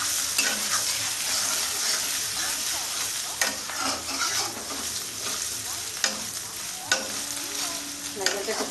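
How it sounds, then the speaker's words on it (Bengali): Grated coconut with a pinch of turmeric frying in a pan for Bengali-style chana dal, a continuous close sizzle broken by several sharp scraping stirs of a spatula against the pan. "সুন্দর করে লাল লাল করে ভেজে নেব"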